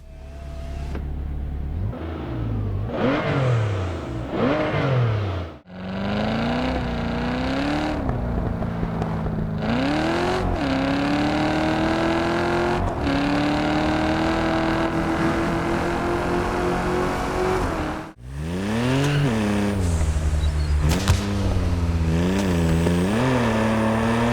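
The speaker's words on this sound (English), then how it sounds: "if you know a sound of a car, it will be 1-to-1 in this game" A car engine in the racing video game TDU SC revs and climbs through the gears, with sustained loud whines rising in pitch, brief drops at gear shifts, and no talking.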